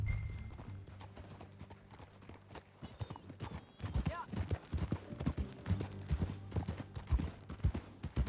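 Horse hooves clip-clop in a steady, brisk rhythm on a ride in Red Dead Redemption 2, fairly close and continuous beneath game voices that talk over the hoofbeats.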